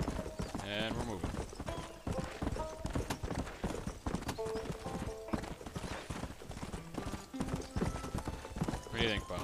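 Horse hooves clip-clop at a steady galloping rhythm throughout while riding in the Red Dead Redemption video game, with game music and effects layered in and someone talking over the hoofbeats.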